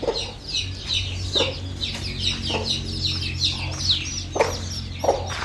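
Several chickens, one of them unwell with heavy mucus, cluck and chatter steadily over a low hum, their calls overlapping throughout.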